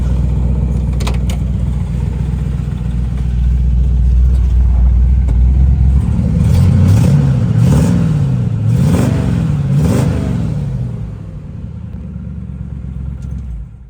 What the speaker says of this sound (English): As you can hear, the car sounds great.